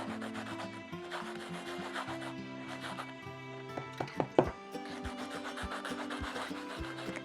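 A Conte stick is scraped back and forth on a sanding block, giving a steady gritty rubbing with rhythmic strokes and a few sharper taps partway through.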